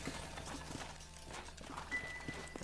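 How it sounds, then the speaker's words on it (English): Horses' hooves clip-clop in the video game Red Dead Redemption, a faint, steady walking rhythm under a quiet background. "let's get off them horses then"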